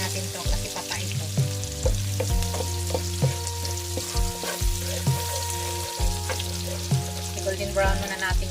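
Chopped garlic fries in a pan for carbonara, a steady close sizzle with periodic scrapes and stirs.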